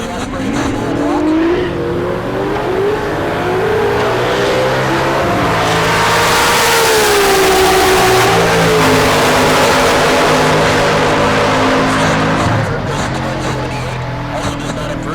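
A Chevrolet Nova drag car with a naturally aspirated small-block engine races down the strip, its loud engine roar rising and shifting pitch as it accelerates, with a commentator talking over it.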